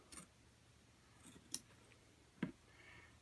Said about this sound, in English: you just take your pair of scissors and you go in about 1/8 of an inch up to 1/4 of an inch